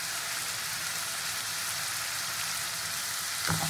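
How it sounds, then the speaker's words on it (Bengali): Onion and tomato with garlic paste frying in oil make a loud, steady, close sizzle that never lets up, with a brief clink of a utensil near the end. "পেঁয়াজ টমেটোটা ভাজতে ভাজতে এর মধ্যে আমি দিয়ে দেবো রসুন বাটা।"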